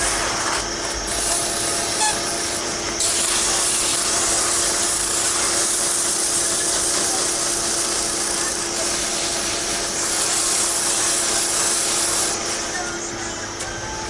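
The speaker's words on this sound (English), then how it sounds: "we're just going down through the progressions again on sandpaper like we always do" Sandpaper rubs steadily against a small cherry wood wine stopper, working through grit progressions with a continuous close, hissing scrape that shifts in intensity over several strokes.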